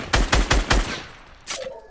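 Rapid burst of four loud gunshots in a video game, evenly spaced and close, followed by a fainter single shot after a short pause, with no talk over it.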